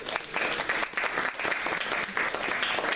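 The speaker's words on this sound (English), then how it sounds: "We'll give these guys a big round of applause." An audience applauds steadily for a group of Superior Court candidates, a dense, even patter of many hands clapping close by for a few seconds with no talking over it.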